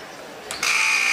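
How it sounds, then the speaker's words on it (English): Buzzer ending a round of a boys' all-star basketball three-point contest in a gym, a sustained bright electronic tone cutting in loudly over crowd noise and lasting to the end. "And there's the buzzer as he runs out of time with a couple left."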